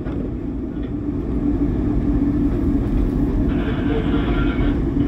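A SEPTA Market-Frankford Line subway train in motion, a close, continuous low rumble of the wheels with a steady rail roar that rises slightly partway through.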